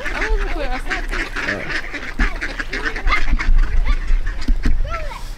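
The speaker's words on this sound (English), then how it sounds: "Look at the duck, bro." Ducks quacking in a noisy outdoor scene, a run of repeated quacks and honking calls, close and fairly loud, mixed with people talking.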